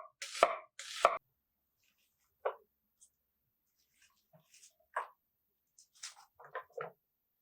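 An onion for a shashlik marinade is chopped with a knife on a board: a handful of separate, crisp cuts come at uneven intervals with quiet pauses between, close and fairly loud.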